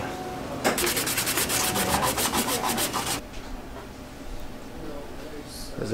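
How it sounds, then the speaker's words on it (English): Sandpaper wet-sanding a small 3D-printed fishing lure, rapid rhythmic scrubbing strokes that are close and loud for about two and a half seconds, then stop, leaving quiet room noise. "I'm just gonna take some sandpaper and wet sand it down."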